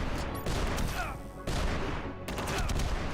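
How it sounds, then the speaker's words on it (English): Electromagnetic grenades going off in the video game UnMetal, three loud crackling bursts in quick succession, each trailing off before the next one hits. "Going to throw electromagnetic grenades."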